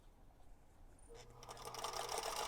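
A sewing machine starts up and runs steadily, stitching a quarter-inch seam on quilt block fabric, its whirring motor rising after a quiet moment and holding close and continuous.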